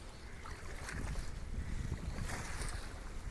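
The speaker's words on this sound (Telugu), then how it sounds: "కెరటాలు అయితే చాలా ఎక్కువ వస్తున్నాయి." Waves roll and wash on wind-swept reservoir water, a continuous, fairly quiet rushing with gusty microphone buffeting swelling and easing.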